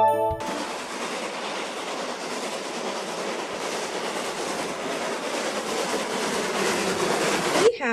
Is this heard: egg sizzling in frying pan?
no